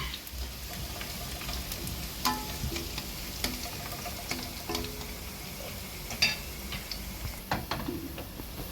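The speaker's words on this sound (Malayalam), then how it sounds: "ഉള്ളി നന്നായിട്ടൊന്ന് മൂത്ത് വരെ ഒരു ഗോൾഡൻ ബ്രൗൺ കളർ ആവുന്ന വരെ നമുക്കിതൊന്ന് ഒപ്പിച്ചെടുക്കാം" Onions fry in oil until golden brown for a chickpea curry, giving a steady soft sizzle with scattered crackling pops and light ticking, alone without talk.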